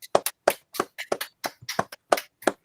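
About a dozen distinct hand claps ring out close and crisp in an irregular rhythm, a single person or small group giving short applause, with no voices over it.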